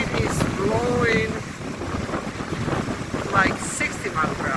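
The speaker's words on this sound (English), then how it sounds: "the wind is blowing" Strong wind roars and buffets the microphone on a California coast during a big storm with gusts near 60 mph at sunset, with crashing surf and ocean noise underneath and a voice speaking briefly over the constant gusting.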